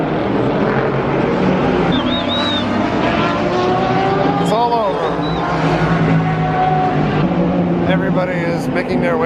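Race cars roar past on the final lap of the 2018 Rolex 24 at Daytona, a steady loud engine drone with a few Doppler sweeps as cars pass, and crowd chatter and talking underneath.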